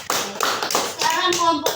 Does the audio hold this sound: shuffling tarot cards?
no